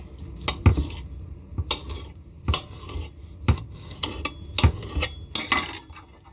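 A knife chops pinto beans into big chunks on a board for a pot of beans, making about eight sharp, close knocks at an uneven pace with light scraping between them and no voices.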